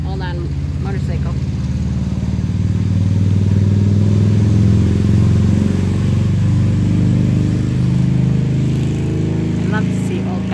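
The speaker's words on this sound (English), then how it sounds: "Hold on, motorcycle." A motorcycle passes outdoors, a steady low engine drone rising and holding across the whole stretch before easing off, loud and close, with a person talking over it.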